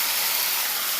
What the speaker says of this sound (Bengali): মাছটা আমি ভেজে দিলাম।